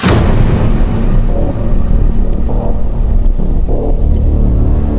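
Steady, heavy rain pours down continuously at night, a dense, loud wash of sound with no voices over it.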